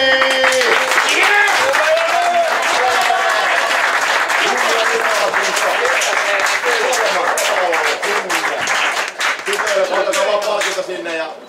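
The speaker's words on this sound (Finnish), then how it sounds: "annetaan raikuvat aplodit" Loud, dense applause and cheering from a crowd at a Finnish motocross championship race in Heinola as a KTM rider champion is introduced, continuous throughout with an announcer's voice and crowd voices mixed in.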